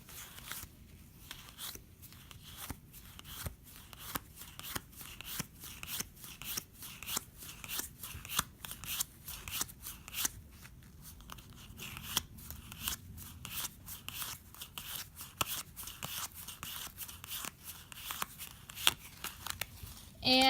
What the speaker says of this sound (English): So I'll just go ahead and give a quick skim through these cards